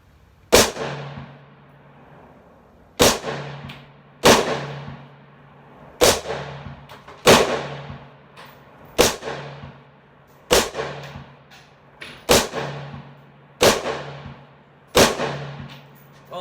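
A Ruger Mini 14 rifle fires 5.56 NATO green tip rounds at an outdoor range, about ten sharp, loud shots spaced a second or two apart, each with a short echoing tail.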